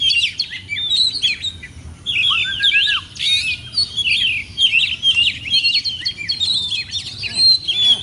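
An oriental magpie-robin (kacer) in breeding condition sings a lively, varied song of sharp whistles, chirps and rapid trills, close and fairly loud, phrases repeating with brief gaps over faint background hum.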